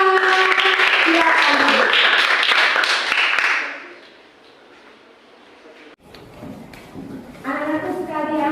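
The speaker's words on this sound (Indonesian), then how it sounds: "Ya, tepuk tangan." A classroom of students bursts into short group clapping that fades out after a few seconds, followed by a teacher talking.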